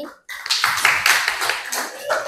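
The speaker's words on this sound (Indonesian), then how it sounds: "Beri tepuk tangan dulu dong." A class of teacher-training participants claps together in a short burst after a brief pause, a brisk spatter of hands that holds for about two seconds.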